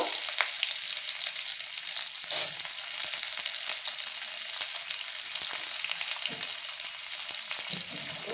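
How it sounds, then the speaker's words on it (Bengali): Onions frying in hot oil with chilli, bay leaf and panch phoron in a pan make a loud, continuous bright sizzle with a few faint stirring taps, heard up close and alone. "পেঁয়াজটা ভেজে নেব হালকা লাল করে ভাজবো"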